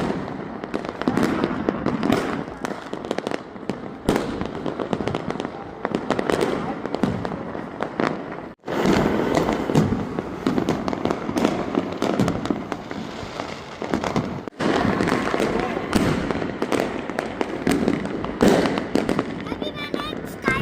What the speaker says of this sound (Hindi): अभी मैंने एक स्काई शॉट देखा, ऊपर गया